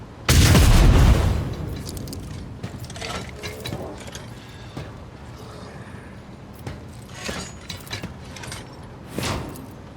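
A big booming blast from the Warhammer 40K Rogue Trader video game opens loud and close, followed by lighter mechanical clanks and a few scattered, fainter bursts later on.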